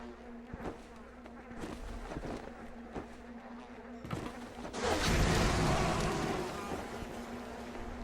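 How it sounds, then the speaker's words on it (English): A swarm of bees buzzing in the BioShock video game, a droning insect hum with sharp bursts, swelling into a louder rushing mass midway through, heard alone without talk. "Go, my pretty bees."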